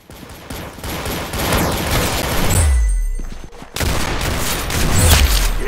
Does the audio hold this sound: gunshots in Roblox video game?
yes